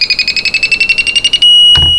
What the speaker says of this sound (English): it will give a series of beeps indicating that it's in programming mode